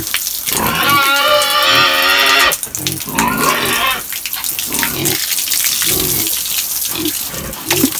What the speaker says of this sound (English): So I just head over to the,